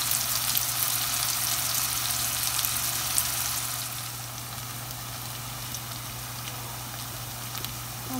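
Onions fry in a pan with a continuous dense sizzle, loud at first and then settling slightly quieter, steady with no talking.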